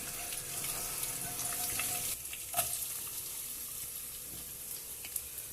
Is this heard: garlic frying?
yes